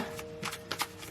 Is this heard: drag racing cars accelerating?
no